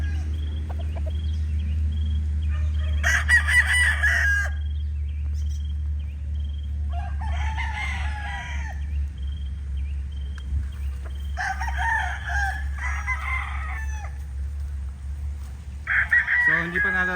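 Several young roosters (stags) crow on a farm in repeated bursts, some fairly close and others farther off, over a steady low rumbling hum.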